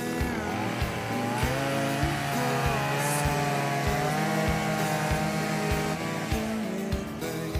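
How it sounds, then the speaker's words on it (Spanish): Chainsaw cutting into a block of ice, its engine buzzing loudly and continuously with a regular pulsing rhythm for several seconds, heard alone without talk. "Es la primera vez que estoy agarrando una motosierra"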